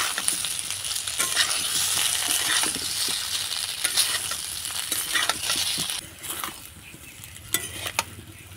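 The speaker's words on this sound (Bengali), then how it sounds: "দিয়ে আমি ফোড়নের সঙ্গে ভালো করে নাড়াচাড়া করে ভেজে নেব।" Semolina tiffin pieces frying in oil with tempering spices, a continuous close sizzle under repeated scraping stirs and a few clinks from the pan, with no talk.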